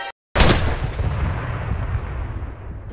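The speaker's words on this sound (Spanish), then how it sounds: "están disparando a la torre donde yo estoy" A sharp gunshot-like blast from a multiplayer war game, with rumbling artillery echo trailing off. The shots are aimed at a tower. It is loud and close, with no voices.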